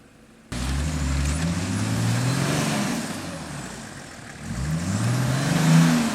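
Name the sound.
4WD Patrol driving through deep track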